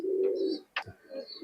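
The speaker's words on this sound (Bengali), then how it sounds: "দেখেন নিউ অ্যাডাল্ট কবুতর" A pigeon gives a low, throaty coo close to the microphone, followed by a brief flutter or scuffle and a softer second coo, heard alone.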